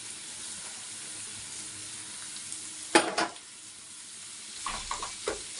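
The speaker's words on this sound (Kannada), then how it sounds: "ಇದೊಂದು ಸ್ವಲ್ಪ ಫ್ರೈ ಆಗಲಿ" Boiled potatoes and turmeric masala sizzle steadily in a pan, with a couple of sharper scraping stirs breaking through the constant frying hiss.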